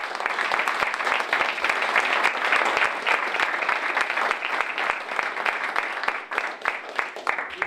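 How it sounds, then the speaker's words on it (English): Audience at a chamber of commerce candidate forum for school board and hospital board applauds steadily, a dense, sustained round of clapping that thins out toward the end. "Would we give them a round of applause?"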